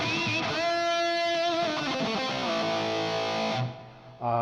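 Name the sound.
guitar overdrive into distortion effect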